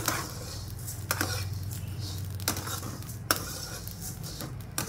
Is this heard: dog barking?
no